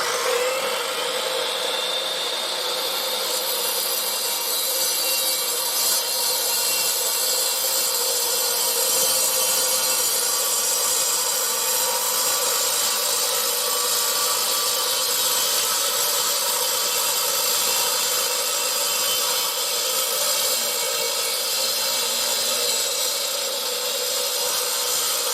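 An Evolution 12-inch concrete saw cutting steadily, a continuous high whining grind at constant loudness with no pauses and no talk.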